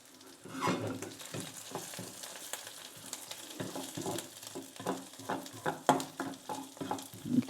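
Tomato, peppers, garlic and onions fry in oil for chicken balti, with a steady sizzle broken by repeated scrapes and knocks of stirring in the pan, close up and moderately loud.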